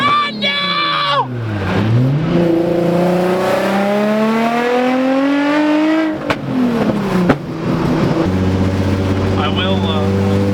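A Nissan 350Z fitted with nitrous roars through a full-throttle pull, its engine climbing steeply in pitch through the gears, loud and close from inside the car, then settling into a lower drone.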